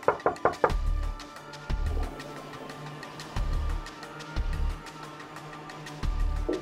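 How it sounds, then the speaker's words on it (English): Knuckles rapping on a front door in a residential setting, several loud sharp knocks in quick bursts, then pauses and more knocking, close and alone with no talk. "Knock one more time."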